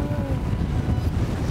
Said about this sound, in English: Fighting winds gusting near 35 miles per hour, Ed and his co-angler Tyler Nickel are targe